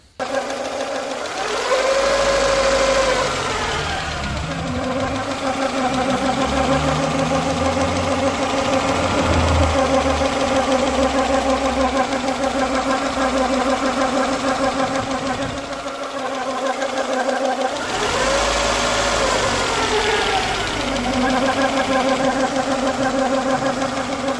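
Freshly rebuilt Peugeot 206 engine running at first start, a steady mechanical drone with a rhythmic ticking, knocking noise from the timing belt area, fairly close, with brief speech near the start and around the middle.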